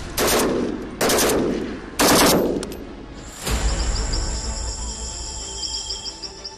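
Army firing practice in mountains: three loud, close bursts of machine gun fire about a second apart, each ringing off in echoes, then a steady hum with insect-like chirring.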